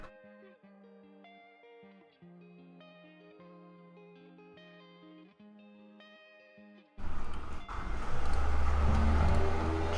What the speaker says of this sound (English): That is a loud car.